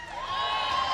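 A crowd at the Overwatch World Cup 2018 Los Angeles Qualifier esports event cheers and shouts steadily, a dense, fairly loud roar of many voices that swells slightly and holds for a second.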